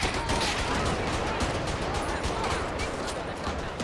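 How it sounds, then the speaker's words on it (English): Continuous dense gunfire in GTA 5 during a police shootout fills the whole stretch as a steady, loud crackle of overlapping shots without clear breaks. "Nope, he is still shooting."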